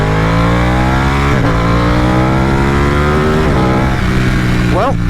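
A Ducati 899 Panigale engine pulls hard while riding, loud and close, with rising revs climbing through gears and brief dips at each shift, the tone sweeping upward repeatedly.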